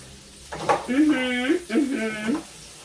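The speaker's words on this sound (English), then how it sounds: "I need to stir these sausages up" Sausages sizzling as they fry in a pan, a soft crackle running under a voice that hums or speaks over it in two drawn-out phrases.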